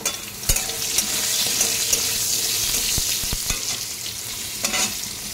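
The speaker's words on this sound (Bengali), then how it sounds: "এখানে একটু নুন হলুদটা দিয়ে হালকা করে ভেজে নেব।" Vegetables, ridge gourd and potato, fry with salt and turmeric in a hot pan, a steady bright sizzle with occasional sharp clicks and scrapes of stirring, no voices.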